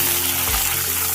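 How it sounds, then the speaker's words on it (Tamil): Small shallots and a sprig of curry leaves sautéing in hot oil for a brinjal gravy, giving a steady broadband sizzle with a low hum underneath, close and continuous without talk. "இப்போ ஒரு 10 இருந்து 15 சின்ன வெங்காயம், அப்புறம் ஒரு கொத்து கருவேப்பிலை, அதையும் சேர்த்து நல்லா வதக்கிக்கலாம்"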